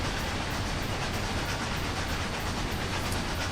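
A diesel freight train rolls slowly in the Trainz railroad simulator game, a steady dense rumble with faint rail clatter, continuous and loud with no talk.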